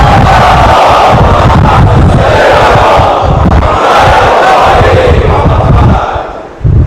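A large crowd loudly chants salawat in unison at a Muharram majlis, a roaring, sustained wall of voices close by that fades slightly at the end.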